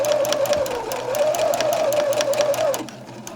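A sewing machine stitches a French seam on a shirt, a steady close mechanical whir with a rapid needle chatter that runs for nearly three seconds before stopping.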